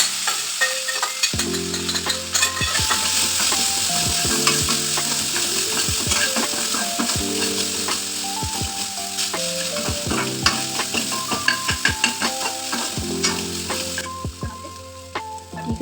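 Cooked rice being stirred and fried in a pan to make lemon rice, with steady sizzling and repeated spoon scrapes and taps against the pan, close and loud, no talking.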